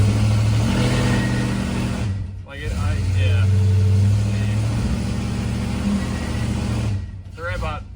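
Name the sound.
Cuda engine revving in gear against the foot brake, stall test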